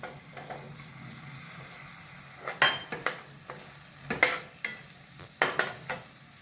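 Potatoes and other vegetables drop into hot oil for a Maharashtrian mixed-vegetable bhaji, bringing a steady sizzle broken by several sharp stirring scrapes and bursts of spatter, close and moderately loud.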